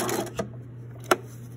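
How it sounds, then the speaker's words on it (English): A sewing machine back stitching along a centered zipper, a soft whirring hum broken by a couple of sharp clicks, close and alone. "go all the way to the top and back stitch"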